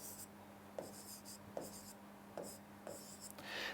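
Marker or chalk strokes on a classroom board during a simple interest lesson, four short distinct scratching bursts spaced roughly evenly, near and fairly quiet with a faint steady hum underneath and no talk.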